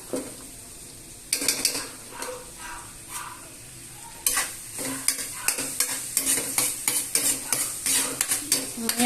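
Garlic frying in oil in a pan, a close crackling sizzle broken by repeated spatula scrapes and clinks against the pan, with the sizzle jumping louder partway through.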